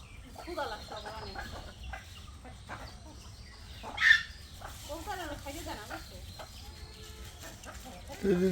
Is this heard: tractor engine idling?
no